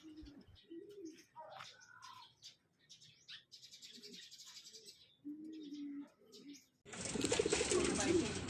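Young racing pigeons bred for southern races coo and chirp in short bursts close by, with a burst of loud wing flapping or rustling near the end.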